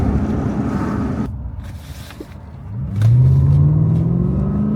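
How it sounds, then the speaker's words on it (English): A Lexus LS400 engine idles roughly, then revs up into a loud, rising exhaust roar that holds steady near the listener. "So exhaust sounds sweet as a nut"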